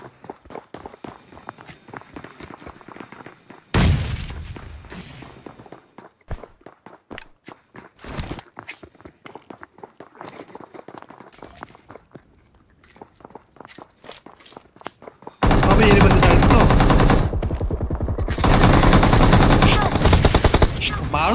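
Gunfire in a battle royale game: scattered footsteps and single shots lead into sudden bursts, then long, loud, dense automatic fire close up near the end, with voices talking under the action.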